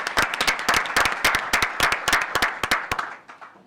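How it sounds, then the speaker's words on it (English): Dense audience applause at an outdoor government announcement about Route 15 highway work, many hands clapping in quick, irregular bursts that hold steady, then thin out and fade near the end, with no talking. "he deserves a round of applause."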